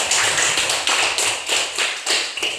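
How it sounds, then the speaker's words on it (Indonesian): Students in a classroom clapping for a group that has just presented its discussion results, several short rhythmic bursts of hand claps in a steady beat, close and fairly loud, with no voices. "tepuk tangan untuk kelompok 1."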